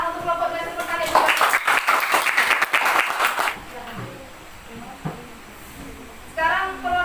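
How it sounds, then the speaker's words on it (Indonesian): Classroom applause for a student group, a burst of clapping from a group of pupils lasting a couple of seconds before fading, followed by quieter room noise and voices speaking. "Tepuk tangan untuk kelompok 2 yang bertanya juga."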